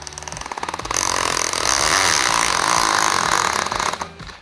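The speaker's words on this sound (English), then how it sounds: "we'll just drive it in just like we do with a normal drill" A drill revs up and runs loudly and steadily for several seconds, driving an anchor screw into concrete with a grinding sound, then winds down at the end.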